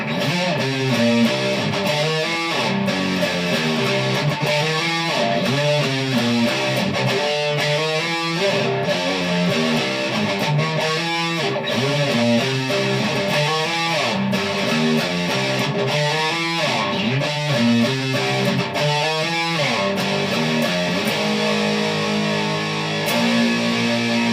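Electric guitar playing the interlude section of a song, a dense, steady, loud distorted passage of chugging chords and riffs running continuously throughout with no talk.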